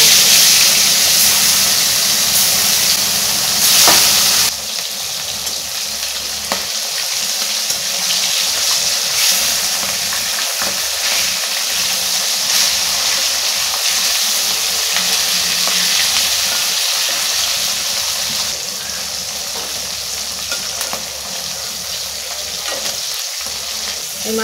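Pasha fish sizzle steadily in hot oil, with a dense continuous frying crackle that holds at an even level for the whole stretch, with no talking.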